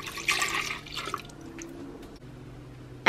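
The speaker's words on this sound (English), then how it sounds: "First thing that we're going to add here will be 1 cup of milk of your choice." Almond milk pours into a blender, a soft liquid splash at the start that settles into a faint trickle, with a brief sharper knock at the end.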